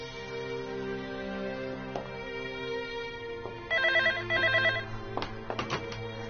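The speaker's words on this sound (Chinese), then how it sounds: "李秘书，帮我接一下罗董事长的电话" An office telephone rings in two clear electronic bursts over a faint steady background tone, with a few sharp clicks afterward.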